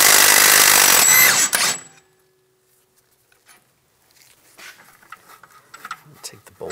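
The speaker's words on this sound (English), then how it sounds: "Using a 24 millimeter socket and a 24 millimeter wrench, I'm gonna put a socket on the bolt, wrench on the nut," A 24 mm socket and wrench loosen the rear hub bolt on a 2010-2016 Cadillac SRX, giving a loud, close burst of clattering, ratcheting tool noise for under two seconds, then near silence with faint handling noises.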